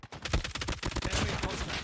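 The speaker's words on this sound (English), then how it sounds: "one of the few assault rifles to retain its bullet damage shooting through walls" Rapid assault rifle gunfire from the mobile shooter Call of Duty Mobile: a loud, fast string of sharp shots fired in quick succession.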